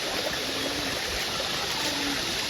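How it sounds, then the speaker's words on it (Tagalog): A river stream flows steadily near Alitap Falls in Mauban, Quezon, a constant broadband rush of water close by with no pauses, no voices and no other sounds over it. "At nandyan na sa may uluhan yung falls."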